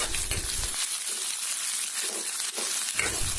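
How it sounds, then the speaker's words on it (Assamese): Thinly sliced large onion and two green chillies fry in hot oil, giving a close, steady sizzle with scraping stirs and a few clinks, fairly loud and continuous, with no talking. "এটা ডাঙৰ সাইজৰ পিয়াজ পাতল পাতলকৈ কাটি লৈছিলো আৰু লগতে দিছো দুটা কেঁচা জলকীয়া এইখিনি ভালদৰে অলপ সময় আমি ভাজি ল'ম"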